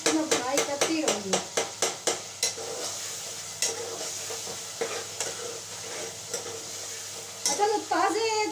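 Fresh tomatoes roasting in a pan, stirred with a utensil, giving repeated scraping strokes over a soft sizzle that quiets midway before more stirring, while someone talks.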